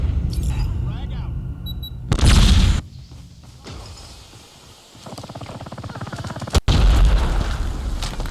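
A frag grenade goes off in a school-set video game: a loud, broadband boom with a rumbling tail, followed later by a second sharp blast, amid ongoing gameplay noise and people talking over voice chat.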